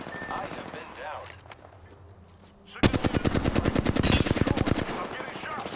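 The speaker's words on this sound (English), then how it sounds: "I am taking fire." Rapid automatic gunfire erupts in a video game, a loud dense burst of shots after a quieter stretch with faint game sounds and a brief spoken voice at the start.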